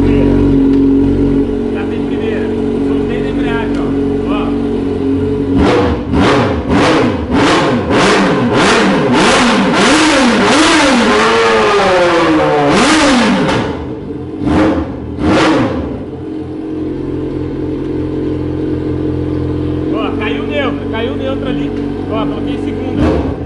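A Yamaha XJ6 motorcycle engine revs hard several times, climbing and falling in quick throttle blips before settling back to a steady loud idle, recorded up close.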